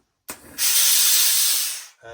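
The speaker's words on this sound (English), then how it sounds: "here we've got the iron and the steamer switch" A loud burst of steam hisses out of a steam iron for over a second, rising sharply and tapering off, preceded by a brief click and puff.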